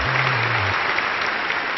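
Loud, sustained applause from an audience outside, dense clapping at close range without pause.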